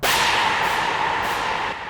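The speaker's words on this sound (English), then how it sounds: "I found this sound called Alien Scream from Stephanie Obagia" A short, harsh synthetic alien scream from a Synthmaster 2 preset, bright and noisy with a sweeping high tone, lasting about two seconds.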